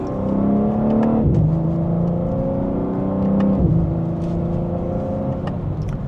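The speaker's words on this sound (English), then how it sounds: "And from second gear, here we go." A 2026 BMW M4 Competition xDrive accelerates hard from second gear, its engine and exhaust roaring close and loud with a rising pitch, two quick upshifts dropping the note before it climbs again, with no talk.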